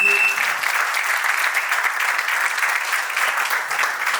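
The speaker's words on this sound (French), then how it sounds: "Vos applaudissements" Steady, dense applause from guests at a French civil wedding ceremony, a continuous wash of many hands clapping close by with no break.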